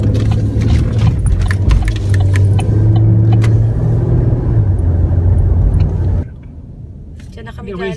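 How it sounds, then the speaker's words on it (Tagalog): A 4x4 truck drives along a road, its engine hum and tire rumble steady and close throughout, with people talking over it until the noise drops off sharply near the end. "What they call a 4x4. You can go off-road with it"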